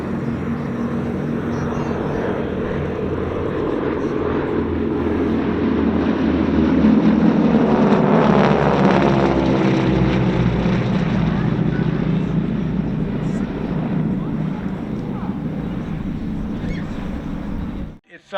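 A formation of WWII-era propeller planes passes overhead at an airshow, a broad droning rumble that swells to a peak midway and slowly fades, continuous throughout.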